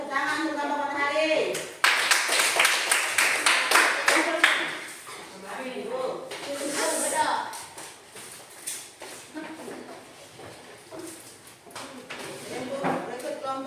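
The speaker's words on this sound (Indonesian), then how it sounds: "tepuk tangan untuk kelompok Matahari" Children in a classroom give a short burst of applause for a group, a quick run of close, sharp claps that gives way to a teacher talking.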